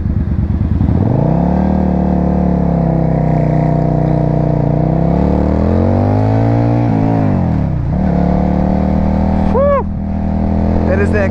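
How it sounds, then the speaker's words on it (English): A Suzuki Marauder bobber motorcycle with an aftermarket Cobra exhaust rumbles loudly up close, its deep, throaty exhaust rising and falling through several revs. "That is that Cobra exhaust."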